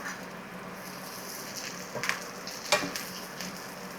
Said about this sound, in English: They're sauteing up beautifully.